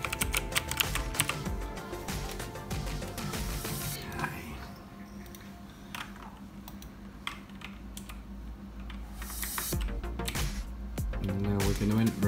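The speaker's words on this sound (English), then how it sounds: "Nice clear keys, nice clicking sounds." Clicky keystrokes from an HCMan mechanical gaming keyboard clatter in quick irregular bursts, close up, while game sounds play loudly underneath.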